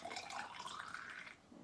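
Water pours into a container in a brief, soft, steady trickle that tapers off near the end, faint and close.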